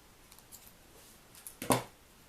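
Scissors snip through craft material in a couple of faint strokes followed by one sharper, louder close cut.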